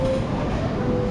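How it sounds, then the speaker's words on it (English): A small ride-on train runs through a Vietnamese supermarket: a brief, loud, steady rumble with a sustained hum, heard close with no speech. "Their train goes."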